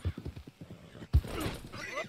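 A horse in Red Dead Redemption 2 trots with quick hoof clip-clops, then gives a sudden thud and a shrill whinny, close and fairly loud over a brief stretch.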